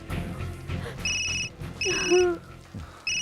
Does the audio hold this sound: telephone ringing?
yes